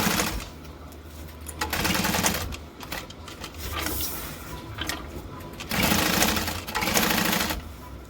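A sewing machine runs close up as a fabric hobo bag is stitched along its seam line, a steady rapid chatter that speeds up and slows in several bursts.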